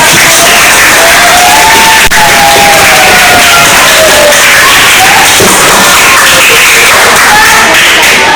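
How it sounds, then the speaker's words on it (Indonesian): A classroom audience at a talk on bullying breaks into loud, continuous applause mixed with cheering and shouting voices, filling the room for several seconds. "tepuk tangan untuk Kak"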